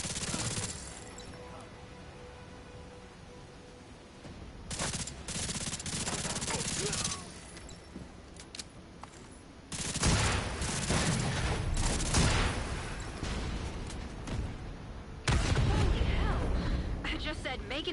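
Heavy blasts and rolling gunfire-like bursts from the explosion at the Pentagon in The Division 2, loud, dense and repeated, with in-game voices talking over the chaos.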